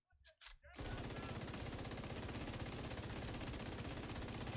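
Sustained LMG fire in The Division 2 video game, a long unbroken burst of rapid, evenly spaced shots following a few quieter taps, steady and close, without talk.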